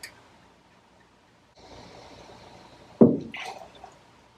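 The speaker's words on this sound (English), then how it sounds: "Oh, perfect pour." Red wine poured into a cocktail glass or mixing tin: a brief liquid splash and glug rising sharply near the end, after a low trickle, close by and fairly quiet.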